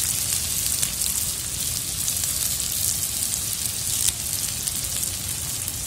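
Sliced onions and curry leaves frying in hot oil in a pan, a steady, dense sizzle with a crackling hiss that holds constant throughout.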